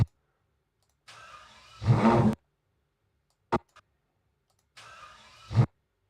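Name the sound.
car engine starting up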